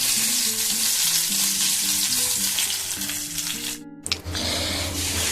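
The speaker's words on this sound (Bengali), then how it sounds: "আমি কারিয়া পাতা শুকনো লঙ্কা আর সর্ষে এই হচ্ছে তরকা দিয়েছি" Curry leaves, dry chillies and mustard seeds sizzle and crackle loudly in hot oil for a tempering, a steady close fry broken near the end by a brief stirring clatter.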